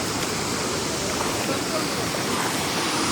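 Soochipara waterfall in Wayanad roars close by, white water rushing in a dense, steady broadband wash that fills the whole moment without any break.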